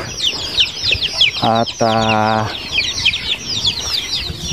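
Native chickens clucking at feeding time on a farm, with ducks kept nearby, busy overlapping clucks throughout and a sustained crowing call in the middle, plus a brief word spoken.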